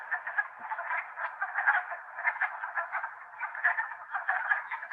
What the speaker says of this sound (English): Those are not ducks, those are wood frogs.